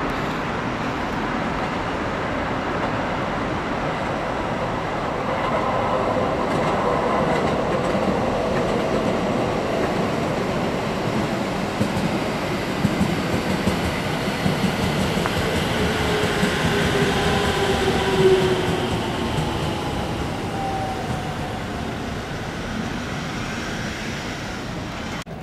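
A Kintetsu commuter train pulls into a station near Nagoya, a loud continuous rumble of wheels and motors with rhythmic clicking and a rising whine, sustained close by for over twenty seconds.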